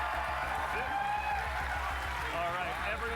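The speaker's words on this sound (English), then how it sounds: "Oh, they got a crowd." A crowd cheers and applauds at a live Bungie gameplay reveal showcase for Marathon, a dense, continuous wash of voices and clapping with talk mixed in throughout.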